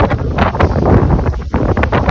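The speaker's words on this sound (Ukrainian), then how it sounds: "дуже сильний вітер" Strong wind at an autumn carp fishing competition on a lake, a loud continuous buffeting rush hitting the microphone with gusts throughout.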